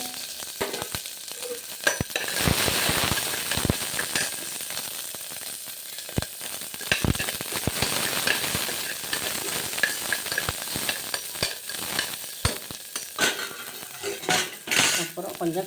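Shallots, dried red chili and green chili fry in hot oil in a pan, sizzling steadily while a metal spoon scrapes and clinks against it in quick strokes, close and loud with no talking.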